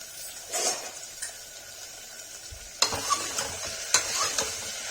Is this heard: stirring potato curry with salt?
yes